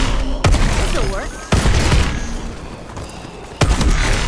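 Loud single gunshots ring out in Call of Duty: Advanced Warfare, three sharp reports spaced a second or two apart, with a voice talking in between.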